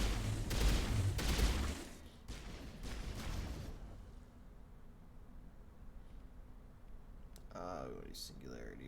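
Gunfire from a gun in the video game Mass Effect: dense, loud bursts of rapid shots that fade into a lingering noisy wash, followed by fainter clatter and a final short burst.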